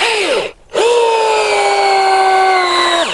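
Einhell TE-AD 18 Li cordless angle drill with a brushed motor driving a 6x100 screw: a loud whining motor spins up, cuts out briefly, then runs steadily at a high pitch for over two seconds before winding down.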